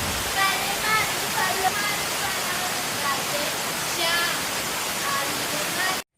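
A downpour of heavy rain makes a constant broadband rush close by, with a voice talking over it throughout.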